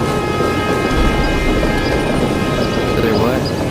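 A train blares its siren with steady sustained tones over a continuous low rumble of rolling cars, loud and close throughout.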